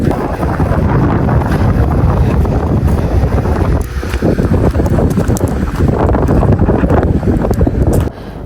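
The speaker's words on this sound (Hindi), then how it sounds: "बहुत तेज़ विंड चल रही है यहाँ, तो चलना भी मुहाल हो रहा है। आप उसकी वॉइस भी सुन रहे हैं विंड की।" Strong, loud wind buffets the microphone on the exposed clifftop at Land's End, UK, a dense continuous roar for over eight seconds with a brief lull near the middle and another at the very end.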